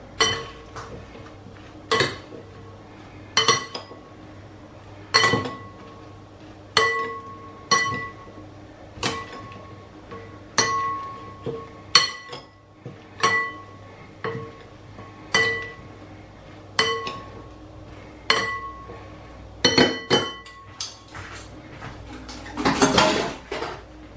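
A glass bowl of lettuce salad dressed with organic extra virgin olive oil being mixed, utensils knocking the glass in a steady series of sharp clinks and taps with brief rustles, close and alone.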